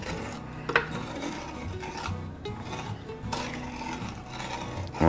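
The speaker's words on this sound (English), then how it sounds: "Now, you see what I'm doing here? Scraping the pot." A spoon scraping the bottom of a pot of dark praline mixture, a steady close rasping and rubbing that runs on without pause, with no talk.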